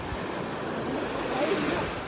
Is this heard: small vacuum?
no